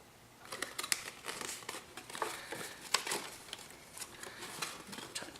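Paper gift box tabs for votive candles are folded and tucked in by hand, giving soft close crinkles and papery rustles in an uneven sequence of small bursts.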